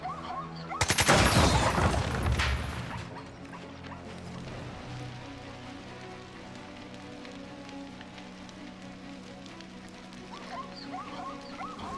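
Gunfire in the video game Jagged Alliance 3: a loud, dense burst of automatic shots lasting about two seconds, then quieter game ambience with faint scattered sounds.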